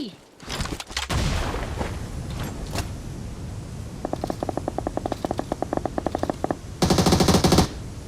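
Rapid bursts of automatic gunfire from the mobile battle royale game PUBG Mobile, a dense rattling volley midway and a louder burst near the end, with a few sharp single shots and in-game noise early on.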